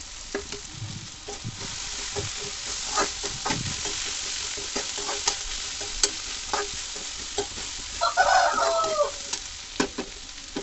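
Okra and peanut fry sizzling in a pan while a spoon stirs it, with scraping strokes and soft crackle repeating at close range, and a brief rooster-like call briefly rising near the end; no voices.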